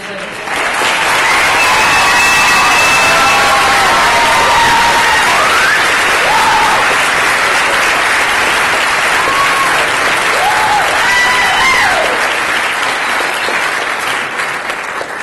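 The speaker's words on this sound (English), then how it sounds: "Let's give a big round of applause for the graduating class." A crowd at a GED graduation ceremony giving the graduating class a long, loud round of applause, sustained clapping with cheers and shouts rising above it throughout.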